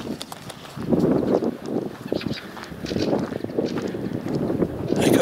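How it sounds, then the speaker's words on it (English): Strong gusty wind blowing outdoors around churches and a graveyard in Norway, rumbling and buffeting close to the microphone in uneven surges that keep going throughout. "Windy, as you can hear and see."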